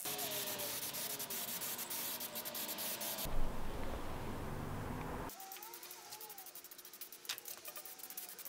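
A wire brush scrubs steadily across the metal underside of a camper trailer being retrofitted, a continuous gritty rasp close by that changes character midway and then grows fainter.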